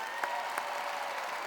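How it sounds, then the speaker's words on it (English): A crowd applauds at a Memphis Grizzlies jersey retirement ceremony for Tony Allen, steady continuous clapping filling the arena with a couple of sharper claps standing out. "I want to give Robert Perra and the whole Grizzlies organization a round of applause for always having my back."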